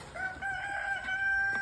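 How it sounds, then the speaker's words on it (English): A rooster at a backyard hatchery with chickens and quail crows once in a long, drawn-out, clear call, close by and loud, with faint farmyard noise behind it. "You are a mighty pretty rooster."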